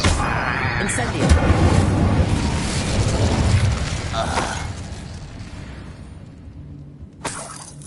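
A fiery Incendio spell bursts out in Hogwarts Legacy, a loud crackling whoosh and rumble at the start that fades over several seconds, followed by a short sharp pop near the end, with a voice murmuring underneath.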